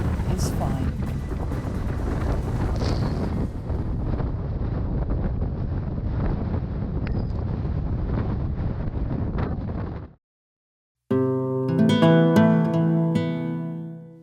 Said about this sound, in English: it's sometimes a bit more than the wind through your hair